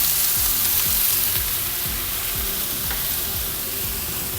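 A sauté for braised beef with black pepper sizzles loudly and steadily in a pan, with a rhythmic series of stirring scrapes across the whole stretch and no talking.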